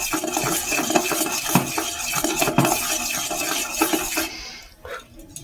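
A spoon stirs sugar into milk for Bengali tea in a metal pot, giving repeated clinks and scrapes against the sides, fairly close, before it stops near the end.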